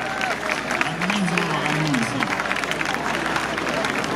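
Audience applauding a folk band at an outdoor festival in Sternatia, a steady wash of clapping and crowd noise throughout with some voices mixed in.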